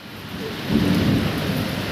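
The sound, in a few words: rain with thunder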